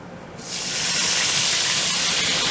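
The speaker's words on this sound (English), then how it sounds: "I'm going to add 1/4 cup of water" Water poured into a hot cooking pan off the heat while making a brisket dinner, a sudden loud hissing sizzle that bursts in after a quiet moment and keeps steaming steadily.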